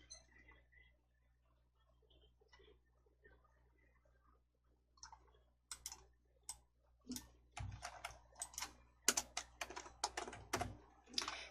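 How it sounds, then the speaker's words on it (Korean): Search word typed on a computer keyboard in a coding lesson: quiet scattered keystrokes at first, then a faster run of sharp, close clicks ending with a firmer Enter press, with no talking. "입력하시고 엔터."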